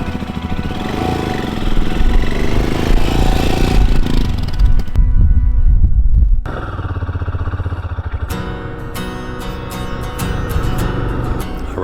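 A motorcycle on a solo camping trip rides along a soft, tree-lined dirt road on Kangaroo Island, its engine droning loud and steady close by, the pitch shifting midway as the rider changes speed.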